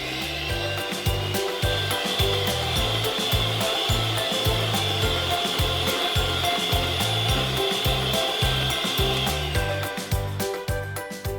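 A whisk rhythmically scrapes a bowl as Biscoff paste is worked into a mousse mixture, making loud, close, evenly repeated strokes that continue steadily throughout.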